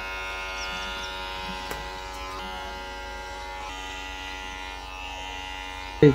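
An electric hair clipper cutting a man's hair gives a steady, close buzz with a constant hum that runs unbroken through the whole stretch.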